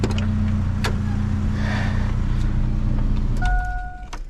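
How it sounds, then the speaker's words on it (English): A truck engine idles with a steady low rumble, then cuts off near the end and leaves a brief fading hum and a few small clicks. "So I'm gonna turn the truck off."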